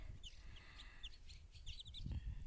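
Several high, thin cheeps from newly hatched chicks scattered across the clip, near and fairly faint, over a low rumbling background.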